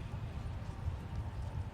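Hooves of a matched pair of carriage driving horses at a combined driving event clop in a steady, continuous patter, moderately near, under a commentator's voice.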